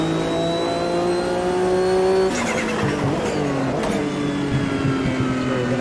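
Race car engine in the Automobilista 2 sim game, a World Sportscar Championship prototype, holds a loud sustained high-revving drone, then drops pitch on a downshift and climbs again through rapid gear changes.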